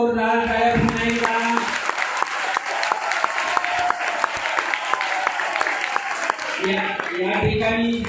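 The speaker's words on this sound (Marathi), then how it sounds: "कोकाटे सरांसाठी एकदा जोरदार टाळ्या पुन्हा एकदा." A school audience gives a lecturer loud, continuous applause while someone speaks over it through a PA system, his voice starting and ending the clapping.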